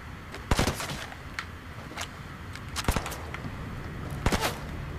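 Sharp gunshots from a gun in Fortnite, several close, loud cracks in small clusters spaced a second or two apart over quiet game background.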